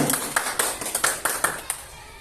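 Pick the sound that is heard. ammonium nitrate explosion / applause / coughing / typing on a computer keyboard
applause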